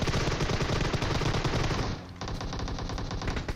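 Automatic gunfire in the mobile game PUBG Mobile rattles in rapid sustained bursts, loud and close, briefly dipping then continuing at a slightly lower level.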